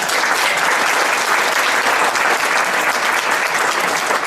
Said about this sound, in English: Sue Marsh also, let's give a huge round of applause to Sue Marsh for all of her work.